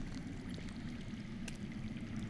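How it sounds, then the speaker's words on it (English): Faint, steady rush of underground flowing water in a Game of Thrones video game, a soft continuous gurgle with no voices over it. "That's water. I hear water. From underground."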